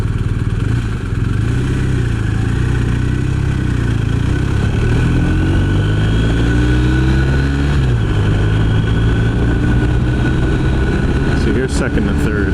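A BMW R 1250 RS motorcycle accelerates hard through second and third gear, its loud, close engine note climbing in pitch, dropping at each shift and rising again, with continuous wind and road roar underneath.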